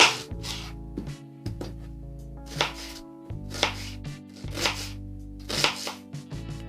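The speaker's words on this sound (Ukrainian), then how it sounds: "Середню цибулю нарізаємо дрібно кубиками." A knife finely dices an onion on a cutting board in short repeated bursts, a steady dicing rhythm with brief pauses between runs, close and clear.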